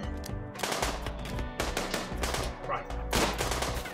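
Rapid bursts of automatic gunfire from the RimWorld video game, loud and continuous with brief pauses between volleys, with a single spoken word over it.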